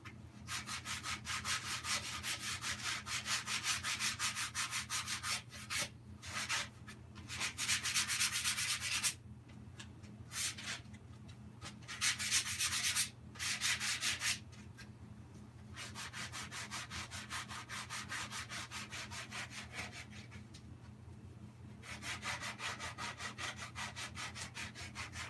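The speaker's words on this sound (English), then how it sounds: "I should be using my palm sander" A palm sander works over a wooden tree stump stool with a steady, loud abrasive whir. It stops briefly several times and restarts, with no talking.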